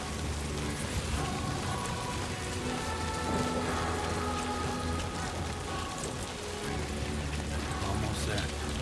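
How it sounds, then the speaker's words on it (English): Steady, dense rain pattering on a vinyl hood in the video game Death Stranding 2, a constant close drizzle of droplets with a faint low hum underneath and no breaks. "I can hear the rain droplets and they sound so real"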